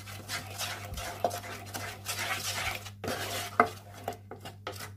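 A spoon steadily stirs almond paste halwa with sugar in a pan, making continuous scraping and swishing with occasional sharp metallic knocks against the pan, close and moderately loud, with no talking.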